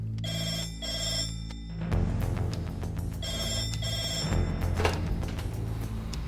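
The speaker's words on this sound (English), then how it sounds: "when that red phone rings, we're ready for action" Red emergency telephone at an air ambulance base ringing in repeated electronic trilling bursts, loud and near, over a busy background of low clatter and room noise.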